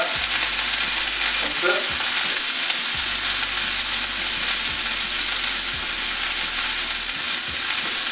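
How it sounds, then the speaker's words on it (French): Ramen toppings stirred in a frying pan, a steady loud sizzle with intermittent scraping strokes throughout, a brief voice heard once. "On mélange bien pour tout incorporer à l'intérieur."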